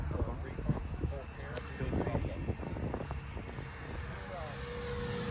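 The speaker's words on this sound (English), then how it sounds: "And we got the F14 landing." A radio-controlled model F-14 with twin 80 turbines comes in to land at a large RC jet show, its whining engine noise rising and falling beneath outdoor wind and an ongoing voice commentating nearby.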